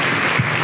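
A congregation claps loudly in church during a worship service, a brief dense burst of applause filling the space for under a second.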